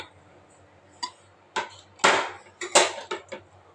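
A knife cuts through leftover idli on a board with a series of sharp, close taps that start sparse and then come quicker, with a few clustered strokes near the end.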